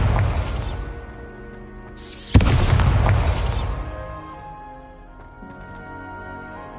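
A Bombarda spell goes off in Hogwarts Legacy with a sharp, loud blast at about two seconds, followed by a roaring burst of debris and rumble that slowly fades. A softer earlier burst comes first.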